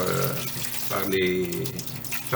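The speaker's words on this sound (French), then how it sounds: "Donc je mets mes 3 citrons ici et je vais les rincer." Three lemons are rinsed under running water from a tap, a close, steady splashing flow with a voice speaking over it.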